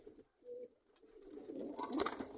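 Pigeons in a backyard loft give low, soft cooing calls, a brief murmur early on and then a fuller, rising burst of coos and fluttering activity toward the end, fairly close.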